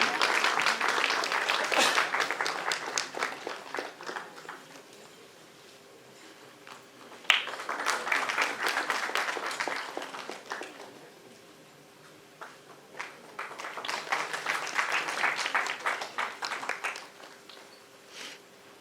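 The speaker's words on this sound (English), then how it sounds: "round of applause for sir" Audience applause at a masterclass during a film festival arrives in three separate bursts of moderate, fairly thin clapping, each fading to quiet murmur before the next swell.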